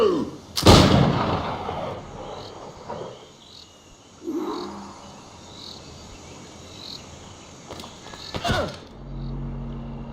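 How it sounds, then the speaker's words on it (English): Cannon fire and explosions from the pirate ship battle video game Assassin's Creed 4 Black Flag: a loud blast opens, then a quieter thud, and another sharp boom near the end over a steady background of insect-like chirping. "कैसा निशाना है इसका बम मार रहा है भाई"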